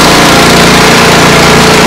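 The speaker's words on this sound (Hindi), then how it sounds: "ये देखिए हमारा पावर वीडर जो स्टार्ट कर रहे हैं, किसी तरह का आपको प्रॉब्लम नहीं होगा" A power weeder's small engine of Italian make, with reverse and forward gears, runs loud and steady at close range, its dense continuous drone filling the whole stretch without any talk.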